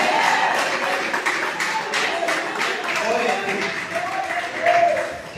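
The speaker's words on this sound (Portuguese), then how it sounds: "Você pode aplaudir o Senhor." Church congregation applauding during a worship service, a dense continuous round of clapping from many people at moderate volume, with a voice speaking over it.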